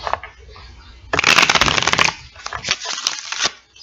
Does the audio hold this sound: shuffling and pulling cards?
yes